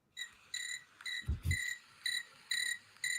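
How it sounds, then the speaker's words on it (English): Repeated cricket chirps played from a phone app, in short, evenly spaced bursts, fairly close and clear, with a brief low thump partway through; no talking. "What's that? Crickets?"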